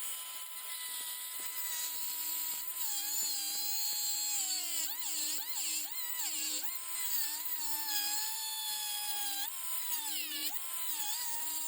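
A rotary tool grinds a slot into a corroded Honda SuperHawk 996 ignition lock, a high whining buzz that dips and rises in pitch as the bit bites and eases, close and continuous for several seconds.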